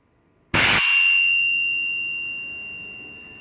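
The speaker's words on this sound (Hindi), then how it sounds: "जिसके साथ में हमने सीरीज में एक डोरबेल जोड़ दिया है" An electric doorbell wired in series with lamps on a hospital patient-call bell circuit gives a single sharp, close ding when its push button is pressed, then a clear ringing tone fades slowly over about three seconds.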